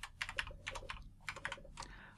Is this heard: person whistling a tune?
no